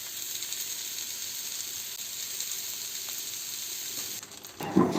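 Mustard seeds and cumin sizzle steadily in about three spoons of oil on a dosa pan, a continuous close crackling hiss that holds throughout, then changes near the end as the pan is disturbed.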